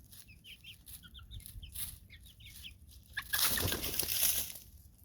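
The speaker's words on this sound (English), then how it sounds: "those are my chickens" Several chickens cluck and chirp in short bursts nearby, followed by a louder flurry of noisy movement and squawking.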